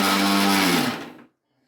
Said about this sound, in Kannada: ಮಿಕ್ಸಿಗೆ ಹಾಕಿ ರುಬ್ತಾ ಇದ್ದೀವಿ